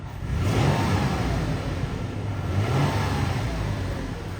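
A 2019 Toyota 4Runner's 4.0L V6 engine revs twice in quick succession, each blip swelling and falling back to a steady idle, close by and fairly loud with no talking.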